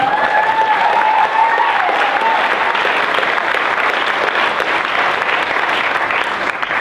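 Wedding guests applauding newlyweds right after they are pronounced husband and wife, loud sustained clapping from a full room lasting several seconds, with a few voices briefly heard early on.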